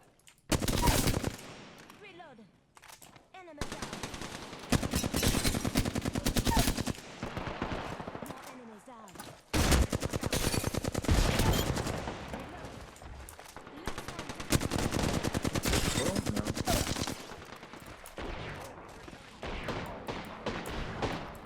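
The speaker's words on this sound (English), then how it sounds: "we came across the sound of bullets" Rapid automatic gunfire from an Apex Legends firefight crackles in sustained loud bursts with brief pauses, several weapons overlapping throughout.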